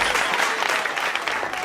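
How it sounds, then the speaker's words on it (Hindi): A crowd gives a short, dense burst of clapping at a comedic election rally, loud and close, with no voices over it. "तालियां बजाओ।"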